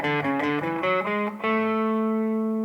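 An electric guitar plays a quick run of distinct notes stepping through major scale intervals, then lands on one long sustained note that rings on clearly, with no talking.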